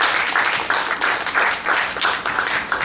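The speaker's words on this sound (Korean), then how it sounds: "우리 저쪽에 왼쪽에 있는 우리 저 동일권 친구에게 박수 한번 보내주시기 바랍니다" A concert audience at a military trot music show claps in a regular, rhythmic pattern, loud and close, with pulsing beats repeating evenly throughout.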